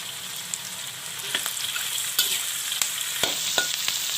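Shallots frying with a pinch of rock salt in a pan make a steady crackling sizzle, broken by several sharp spatula clicks and scrapes against the metal.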